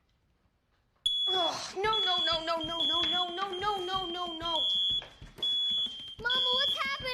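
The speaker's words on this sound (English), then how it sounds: "It's just the smoke detectors." Household smoke detectors sound suddenly after a short silence, loud, steady high-pitched electronic beeping that keeps going with brief breaks, while people talk in alarm over it.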